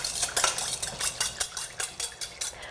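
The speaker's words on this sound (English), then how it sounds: "And you're going to whisk it and make sure all the crystals dissolve." A whisk beats citric acid crystals into water in a bowl, giving a steady, rapid rhythm of metallic scraping strokes, about four per second, close up with no talking.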